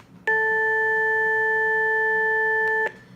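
A steady electronic tone made of several pure pitches sounding together, loud and unchanging for about two and a half seconds, then cutting off abruptly.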